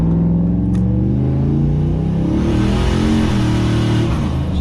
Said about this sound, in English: Did break loose a little bit there in first, but second gear it got full boost.